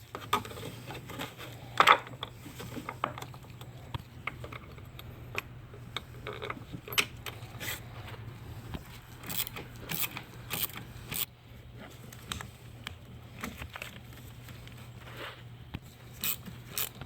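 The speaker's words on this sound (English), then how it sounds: "We're going to go ahead and get the battery back in" Battery reinstalled in a 2013-2016 Dodge Dart 1.4L turbo: scattered metallic clicks, taps and clunks of handling and fitting, close and irregular over a faint steady hum, with no talk.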